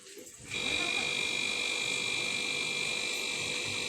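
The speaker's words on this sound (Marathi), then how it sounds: "करा मोटर चालू" An electric water pump motor at a village home switches on after a short quiet moment, then runs with a steady, loud whining hum that holds evenly to the end.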